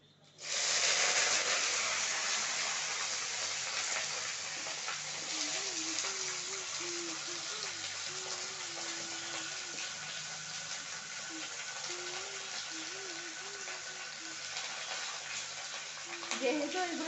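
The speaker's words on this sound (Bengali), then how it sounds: "এখন ফোড়নটা একটু ভাজা হয়ে গেছে" Whole spices tempering in hot oil in a pan for a Malabar spinach stem curry, a loud, continuous close-up sizzle and hiss that starts abruptly and holds steady to the end.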